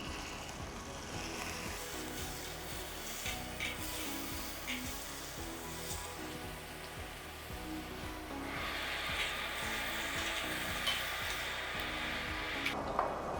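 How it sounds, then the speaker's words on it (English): A lamb shank sears in a hot pan, producing a steady, moderately quiet sizzle and hiss that runs throughout with small crackles and no talking. "While cooking the shank, make sure it has to be cooked or sealed from all the sides."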